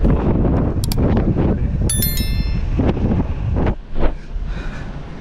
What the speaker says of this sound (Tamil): ஜன்னல் உடஞ்சிருக்கு, காற்று வருது.